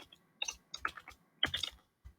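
Typing on a computer keyboard while coding HTML: soft clustered key clicks in irregular bursts, close and fairly quiet, with no talking.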